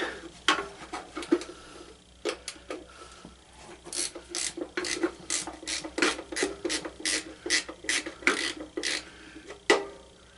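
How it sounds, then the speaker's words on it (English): A GearWrench ratchet being worked, its pawl clicking in quick repeated bursts with brief pauses between strokes, close and clear with no talking. "Gear wrench ratchet, something I bought from a local junkyard a couple years ago"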